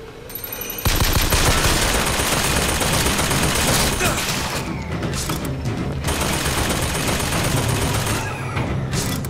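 Heavy automatic gunfire in Bioshock Infinite, a loud, unbroken machine-gun barrage that erupts after a brief quieter lead-in and keeps hammering with dense rapid shots, easing only slightly near the end.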